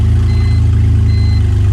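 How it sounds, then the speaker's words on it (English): BMW E46 engine idling with a steady, low, pulsing rumble, close and even throughout the short stretch, with no speech over it. "See how it's kind of idling right now?"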